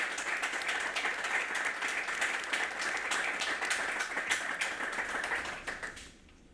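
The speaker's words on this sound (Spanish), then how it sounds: "me gustaría que les dierais un fuerte aplauso por su participación en esta sesión" Audience at an academic session on disability applauding the participants, many hands clapping in a sustained, even burst that thins out and fades over the final second.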